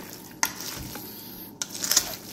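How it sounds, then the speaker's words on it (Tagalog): Pork sisig being stirred in a hot pan, with a soft background sizzle and two distinct scraping strokes of the spoon against the pan. "bibigyan ko lang siya uli ng konting halo"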